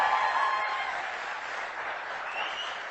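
Crowd in a seated hall clapping at a motivational talk, dense sustained applause that holds steady then eases slightly, fairly loud with no voices over it.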